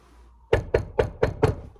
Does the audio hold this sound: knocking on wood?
yes